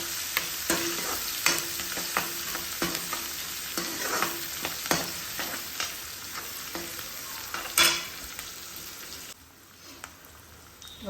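Curry leaves and onion dropped into hot oil for dal, a dense crackling sizzle with repeated rhythmic stirring taps against the pan, fading quieter near the end.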